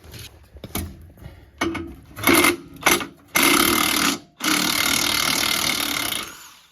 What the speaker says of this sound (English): I'm gonna try and use my impact gun.